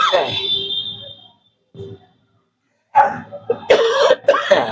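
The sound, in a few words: coughing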